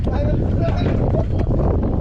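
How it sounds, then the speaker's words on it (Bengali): Strong wind roaring over a speedboat on choppy water during a ride in Savar, a loud, constant low buffeting rush pressed against the microphone, with voices partly buried beneath it. "আসলে একটা বাতাস আসছে বাতাসে আমরা পড়ে গেছি"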